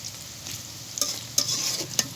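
Onions fry lightly in oil with a soft, steady sizzle. A few sharp clicks and scrapes of stirring in the pan cut in near the end, and no one speaks.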